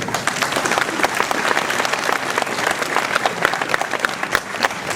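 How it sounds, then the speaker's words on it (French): A hall audience at a mayor's New Year reception in Ouistreham claps steadily for a medal recipient, a loud, continuous patter of many hands with sharper single claps popping through, with no pause. "Et on peut l'applaudir bien sûr."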